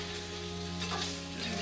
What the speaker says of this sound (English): So I got this seafood, shellfish, getting nice and hot here.